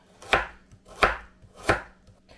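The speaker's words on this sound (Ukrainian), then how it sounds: "Моркву я ось так розріжу на 4 частини." Three sharp knife chops cut a carrot on a cutting board at an even, unhurried pace, crisp and close with quiet between them.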